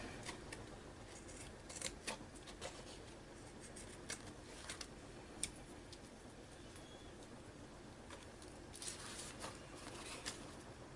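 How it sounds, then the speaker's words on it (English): Scissors trimming excess StikA-Tex from a bingo card junk journal cover give a few faint, scattered snips over a quiet background hiss. "I'm just cutting off the excess StikA-Tex."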